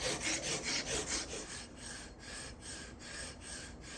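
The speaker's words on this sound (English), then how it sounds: "use a file to remove a little under 1/16 of an inch off of each side while maintaining square edges" A hand file rasps back and forth across the edge of a wooden board for a Shaker lap desk, a steady close stroke rhythm of scratchy rubbing that slows slightly as it goes on.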